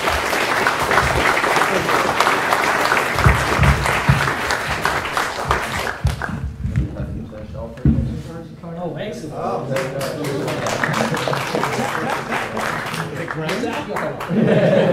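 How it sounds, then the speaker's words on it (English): A lecture audience applauds at a Q and A session, a broad wash of clapping that fades in the middle and then swells again, with a voice speaking over it. "So how about a round of applause for them?"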